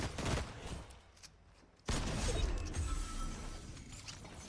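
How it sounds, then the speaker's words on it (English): Gunfire in the Fortnite video game crackles in bursts of rapid shots, loud at the start, then briefly quiet before another burst of shooting and clattering erupts and continues. "I did hear gunfire."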